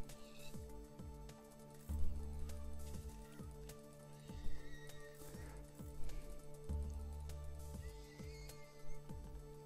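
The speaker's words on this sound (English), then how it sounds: "More horses." Horses in the Minecraft video game, with soft rhythmic hoof clip-clops repeating steadily over a tonal game music bed, no talking.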